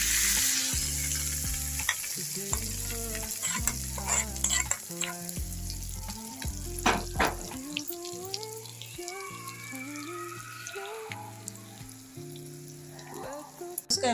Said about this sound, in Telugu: పచ్చడిలో పోపు వేసేస్తాం.